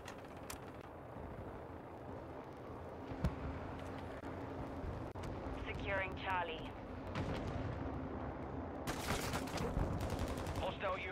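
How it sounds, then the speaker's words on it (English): Video game gunfire with incendiary rounds: bursts of shots and rumbling blasts run throughout, loud and dense, with player voices talking over the battle. "You set me on fire. Yeah, incendiary rounds."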